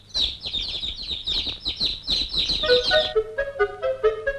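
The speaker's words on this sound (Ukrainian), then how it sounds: "горобці, що сиділи на дереві, почали з нього сміятись" Sparrows perched in a tree chirp loudly and continuously, a dense run of bright overlapping tweets giving way to more tonal, repeated call notes, close and prominent.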